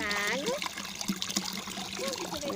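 Water poured out at the Bica da Mina spring in Avaré's forest park trickles and splashes steadily beneath several people talking and calling out close by.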